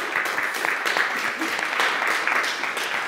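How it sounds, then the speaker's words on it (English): An audience at a talk breaks into applause, with dense, continuous clapping at a moderate, even level across the whole stretch. "and a round of applause."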